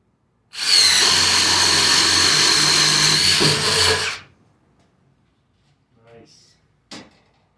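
A Ridgid brushless impact driver on speed 3 spins a 3/8-inch Spyder Stinger spade bit through wood in one loud, steady whirring burst of about four seconds. Faint knocks and handling noises follow.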